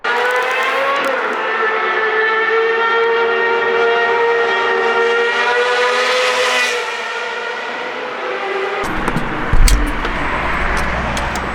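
An Aprilia RSV4 motorcycle engine runs loud and close, its rich harmonic drone holding steady with a slight rise and fall in pitch, then cut off near the end by a sudden low thump and rustle.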